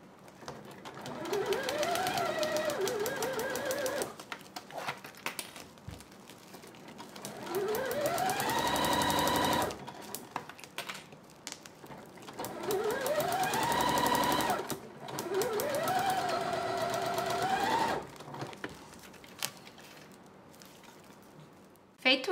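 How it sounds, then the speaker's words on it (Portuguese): A sewing machine stitching fabric with an etaflon lining, several multi-second runs of rapid mechanical whirring with pauses between them, under a person talking. "Agora, na parte que eu vou costurar o etaflon, eu aumento o ponto novamente para 4 milímetros."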